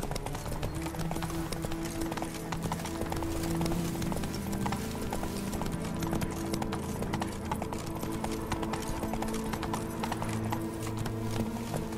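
Geralt's horse Roach trotting in The Witcher 3 video game, steady rhythmic clip-clop of hooves close up under a low ambient background and a faint voice.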